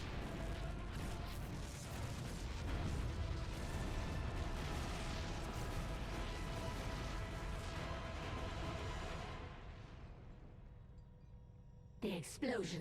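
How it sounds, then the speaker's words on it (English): Explosions and rumbling battle noise in the video game StarCraft II, Heart of the Swarm, a dense sustained roar that thins out near the end before a couple of sharp sounds. "The explosions have stopped."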